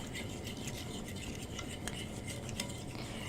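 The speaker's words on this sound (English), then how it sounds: "as I was scraping this, I wasn't hearing my fork on the bottom of the pan at all" A fork scrapes hamburger gravy off the bottom of a pan, a steady, soft metallic scraping and stirring that continues throughout at low volume.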